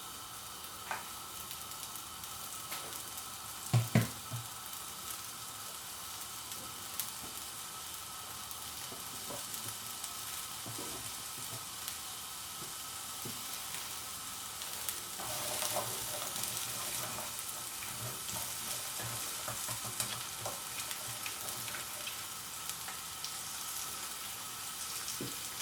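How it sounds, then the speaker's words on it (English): Chopped onions fry in vegetable oil in a pan, sizzling steadily and softly up close throughout. A few light clinks and stirring sounds come through now and then. "2 tablespoons of vegetable oil, and then some onions, chopped onions"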